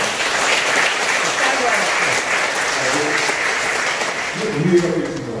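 An audience at a Buddhist temple service, held in the lobby of Bulgwangsa, gives a steady round of applause. The clapping is dense and even and carries on throughout at a constant loudness.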